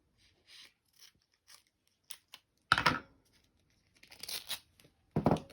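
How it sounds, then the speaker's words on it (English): Strong duct tape is pulled and cut at close range for decorating a journal cover, giving a few sharp ripping and snipping bursts between soft handling noises and pauses. "The duct tape is very strong. So I just cut a piece that I know will"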